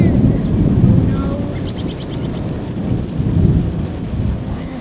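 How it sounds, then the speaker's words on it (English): A thunderstorm fills the scene with heavy, continuous rain and deep rolling thunder that swells and fades in loud, low rumbles over several seconds. "They said that it's going to be a storm. And it really is."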